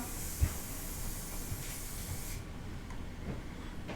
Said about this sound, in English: Let's use some of the spray paint.